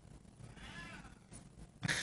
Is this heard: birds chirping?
no